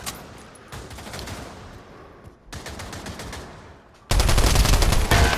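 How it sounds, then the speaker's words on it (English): Sustained gunfire in the VR shooter game Pavlov, with dense bursts of rapid shots rolling on for seconds, a brief lull, then a much louder, closer volley at the end. "Somebody was shooting."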